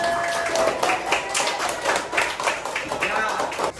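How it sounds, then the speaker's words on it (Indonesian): A class claps for everyone at the end of an Islamic religious education lesson, with uneven bursts of hand claps and taps, and voices heard over the clapping. "Boleh kita tepuk tangan buat semuanya."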